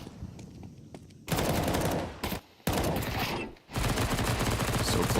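An MP9 submachine gun fires in the Counter-Strike video game in loud, dense automatic bursts that nearly fill the stretch, broken by two short pauses.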